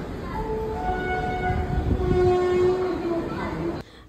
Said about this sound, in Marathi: ही डेक्कन एक्सप्रेस कधीच स्टेशनला येऊन लागली आहे